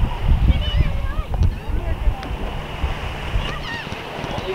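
Ocean surf washing onto a beach at high tide in a storm-damaged state park, a rough, wind-buffeted rush of breaking water close to the microphone while a person talks over it.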